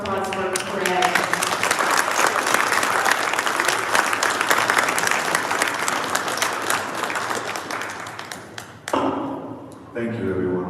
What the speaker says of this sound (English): Everybody give a round of applause for Craig.